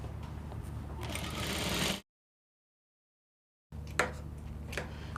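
A sewing machine runs a steady stitching burst while joining a half-inch seam on a cowl bubu dress, stops for a silent pause, then resumes with a few short clicks and runs again, close and fairly quiet.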